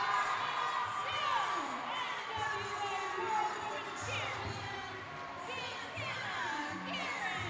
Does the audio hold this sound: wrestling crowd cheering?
yes